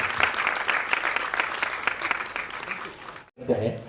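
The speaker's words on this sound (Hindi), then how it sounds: "तो ये तालियों के पुष्प हैं जो मंच को आपने भेजा है।" An audience at a classical dance honours ceremony applauds with dense, steady clapping that drops out abruptly just before the end, then resumes briefly.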